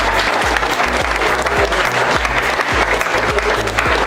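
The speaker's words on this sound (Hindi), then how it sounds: "ताली होनी चाहिए भैया कि नहीं?" An audience in a phone-repair training class claps loudly and continuously, a dense, close patter of many hands with no voices over it.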